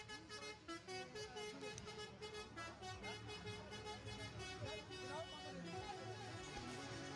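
A big truck's musical horn blares at a EuroNASCAR race event in Spain, a steady tonal honking heard faintly and at a distance, with commentary talk over it.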